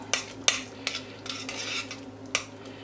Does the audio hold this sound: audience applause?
no